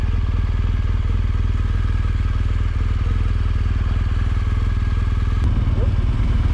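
A motorcycle idles at low, steady volume as the rider pulls in and parks at a campsite on a moto camping trip, the engine rumbling continuously with a slight shift near the end.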